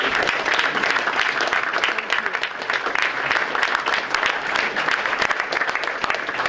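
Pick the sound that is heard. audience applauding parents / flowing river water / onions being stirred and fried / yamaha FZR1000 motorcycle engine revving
audience applauding parents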